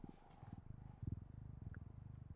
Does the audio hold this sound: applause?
no